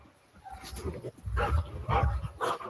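A working dog doing bite-work training with sleeves barks and whimpers in short, uneven bursts that grow louder toward the end, heard close, with faint human sounds mixed in.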